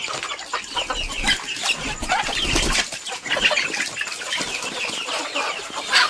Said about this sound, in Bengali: এই যে আমার মুরগিগুলো বের হচ্ছে